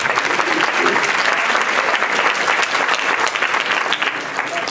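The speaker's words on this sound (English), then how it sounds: "let's give her a round of applause" Loud, dense applause from an audience at a gathering honoring Dr. Thelma Daly, many hands clapping together in a sustained, even roar that stays strong from start to finish.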